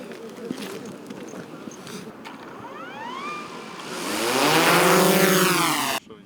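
Military drone, a kamikaze or reconnaissance UAV, flies during a National Guard tactical training demonstration for lyceum students, its engine tone sweeping and swelling loud over the last seconds before cutting off abruptly, with background noise throughout.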